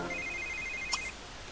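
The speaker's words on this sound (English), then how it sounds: "That phone's going to continue ringing." A video game telephone rings with a thin, steady electronic trill lasting about a second, then a brief click, quiet and alone over faint background hiss.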